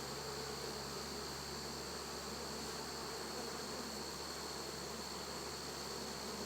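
Honey bees fill an opened beehive with a dense, steady buzz, a constant drone of many wings that holds evenly throughout without pause or voices.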